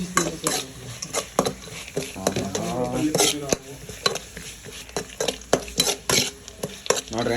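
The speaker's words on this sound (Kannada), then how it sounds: "ಇವಾಗ ಅರಿಶಿನ ಹಾಕಿಬಿಟ್ಟು ಸ್ವಲ್ಪ ಫ್ರೈ ಮಾಡೋಣ" A spoon scrapes and clatters in a pan as poha masala with turmeric fries, giving a soft sizzle under repeated close stirring knocks.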